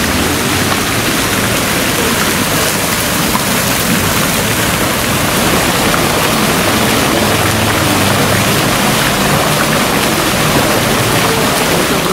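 A thin jet of water falling from a small fountain at a café in Kyiv, giving a steady, close splashing hiss that runs without a break.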